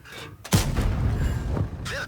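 A heavy cannon shot from a light tank in a tank video game, a loud close boom followed by a rumbling tail, with a smaller thump near the end.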